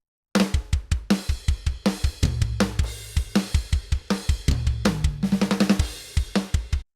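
A tight, dry drum kit from Logic Pro's Naturally Dry preset plays a steady groove of punchy kicks, snares and hi-hats, close and unreverberated, with no voices.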